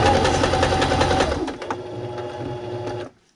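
A sewing machine stitches a zigzag seam along foam padding for a double gun case, a steady whirring run for about three seconds that stops abruptly.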